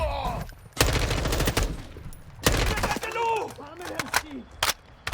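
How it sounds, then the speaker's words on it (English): Gunfire in a Call of Duty DMZ match crackles in repeated bursts and volleys, some loud and sharp, others more distant, with brief gaps between them and no one talking. "it sounds like they're having a lot of gunfight"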